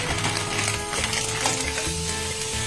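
Frozen shrimp go into a hot pan of Hokkien mee noodles and are tossed, giving a steady sizzle broken by rhythmic scraping and stirring strokes, close and fairly loud.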